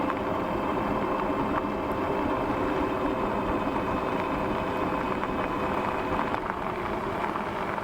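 A HovBeta folding e-bike from Hovsco ridden at full throttle on pavement, giving a steady, continuous hum and rolling road noise with wind rush that stays loud and even throughout, with no talking.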